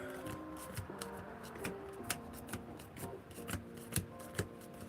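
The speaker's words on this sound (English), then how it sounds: "Power shuffle this deck out." A Yu-Gi-Oh card deck power shuffled by hand: a quick, irregular run of crisp card snaps and slides repeating through the clip, close and quiet with no talking.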